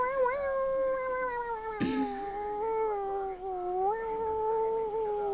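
A cat meows in long, drawn-out, wavering calls close by, with one brief sharp rustle in the middle; no talking.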